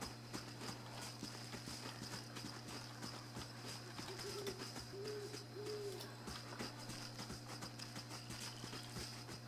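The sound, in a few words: horse hooves in a video game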